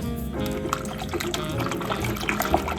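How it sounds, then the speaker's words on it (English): A cup of water from a half mason jar pours steadily into a pot of noodle-bake gravy, a near, continuous splashing trickle that runs the whole moment without any talk. "Now we're going to put in a cup of water"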